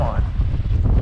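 Gusty wind rumbles against the microphone out on a fishing boat, a brief, loud, low buffeting burst with no voices.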